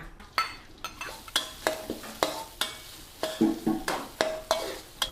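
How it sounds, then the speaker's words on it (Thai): Pounded spice paste being stir-fried in oil in a wok, the spatula scraping the pan in a steady run of sharp strokes over a soft, continuous sizzle, heard up close with no talking. "ผัดไปผัดมาให้มีความเหลือง แล้วก็มีความหอมแบบนี้เลยนะ"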